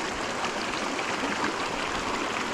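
A creek in Estes Park, Colorado rushes steadily with a dense, continuous watery hiss, close and even throughout with no talking.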